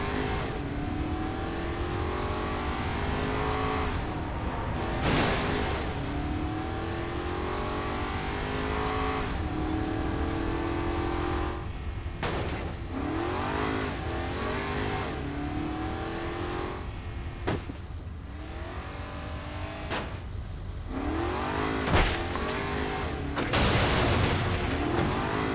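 A car engine in the video game Saints Row IV revs and accelerates continuously, the pitch sweeping up and down through gear changes, loud and alone with no talk.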